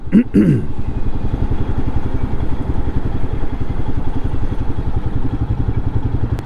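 Royal Enfield Himalayan motorcycle cruising on the interstate, a steady close engine drone with dense wind roar throughout, opened by a brief whooping voice at the start.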